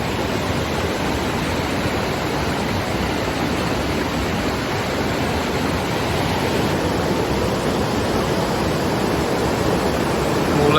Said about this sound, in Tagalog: Umulan din, guys.